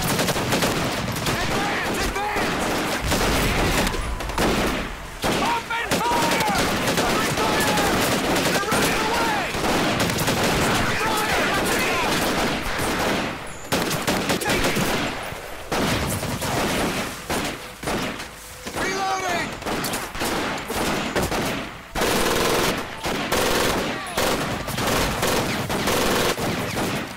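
A continuous barrage of machine gun and rifle fire in the Medal of Honor: Pacific Assault battle near Guadalcanal with a sinking Japanese carrier, loud and dense throughout with rapid overlapping bursts, explosions and shouting voices mixed in.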